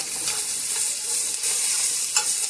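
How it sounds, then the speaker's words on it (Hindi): Vegetables, carrots among them, frying for veggie noodles, giving a steady close sizzle with brief scraping stir accents throughout. "इन सब चीज़ों को 5 मिनट तक हम फ्राई करते हैं"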